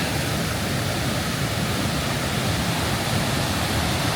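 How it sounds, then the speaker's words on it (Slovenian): Savica waterfall, 78 metres high, in the Triglav mountains, roars as a dense, constant wash of falling water, loud and unbroken, with no voices. "mislim, da 78 metrov visok slap Savica"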